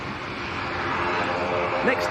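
A 16-year-old Boeing 737-800 airliner at Manchester Airport in crosswinds produces a broad, steady jet roar that swells slightly over two seconds, with a voice talking over it.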